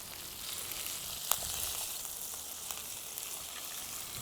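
A cod fillet fries in foaming butter, giving a faint steady sizzle with a few small crackles and pops throughout, no voices over it.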